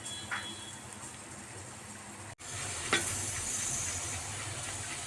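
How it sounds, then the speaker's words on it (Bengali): Puri deep-frying in hot refined oil in a karahi makes a continuous, moderately quiet bubbling sizzle, briefly cut off once, then resuming slightly louder with a small clack. "পুরিগুলো আমার এইভাবে ফুলকো ফুলকো করে আমি ভেজে নিচ্ছি"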